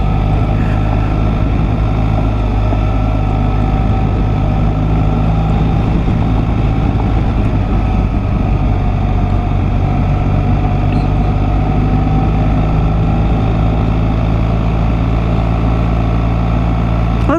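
An adventure motorcycle engine drones steadily and loudly while riding through Santa Fe National Forest, a constant hum with no break for the whole stretch.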